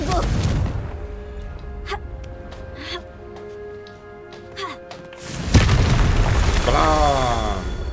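Confringo spell explosion in the Hogwarts Legacy video game, a sudden loud burst with a rumbling tail following scattered quieter game effects, while a voice speaks over it.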